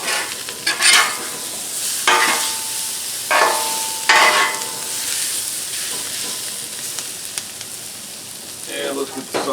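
Sausage and peppers sizzle on a Blackstone griddle under a steady frying hiss. Loud bursts of a metal spatula scraping and stirring break in every couple of seconds, and there is no talking.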